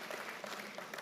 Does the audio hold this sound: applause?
yes